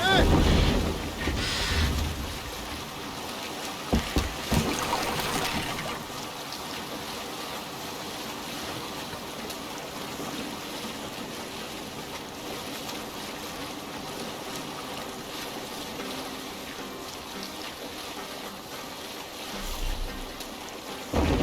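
A ship sails across the water in Assassin's Creed Valhalla, with a continuous rush of wind and waves, some splashing and knocks near the start, and faint voices underneath.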